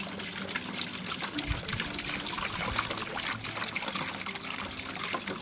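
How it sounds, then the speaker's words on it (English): Water is poured steadily into a tub to mix material for a traditional stone-look window surround, giving a continuous close splashing pour with no pauses and no talk. "I add the water"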